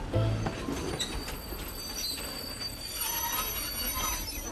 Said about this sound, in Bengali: ট্রেনও বেশ একটা ঝাঁকুনি দিয়ে থেমে যায়